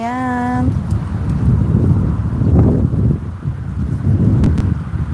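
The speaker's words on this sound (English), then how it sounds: "It's windy today again." A brief tonal beep opens, followed by steady rumbling wind buffeting the microphone in gusts throughout.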